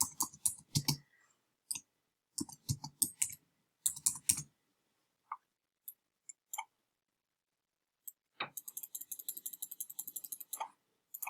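Keystrokes on a computer keyboard as a title is typed into a Google Slides text box, coming in quick close bursts with pauses between, then a steadier run of rapid light clicks near the end.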